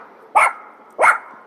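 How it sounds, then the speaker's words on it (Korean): A small dog on a walk outdoors gives two sharp, loud barks about half a second apart, clear and close with no talking over them. "여기도 멍멍이가 있네"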